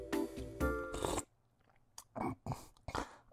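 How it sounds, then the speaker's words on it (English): Crunchy food being bitten and chewed in a mukbang, a few close, loud crunching bites followed by quieter chewing bursts, alone without talk. "What you watching? A mukbang."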